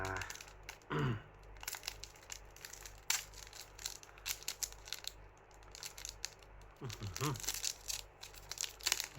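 The foil wrapper of a trading card pack tears open with a few crinkling rips and crackles up close, while a person talks quietly in between.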